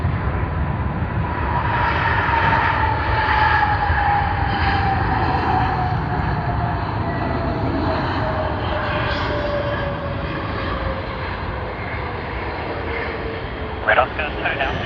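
A Vietnam Airlines airliner arriving from Ho Chi Minh City on landing at Sydney Airport, a loud steady jet roar with a slowly falling engine whine, close and continuous throughout.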